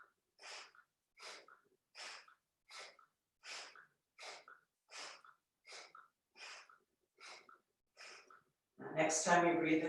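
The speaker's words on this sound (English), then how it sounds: "Now I'm breathing out my right." Alternate nostril breathing during a yoga session, a steady series of about a dozen short, close nasal breaths at an even rhythm, followed by a louder, fuller exhale at the end; no talking over it.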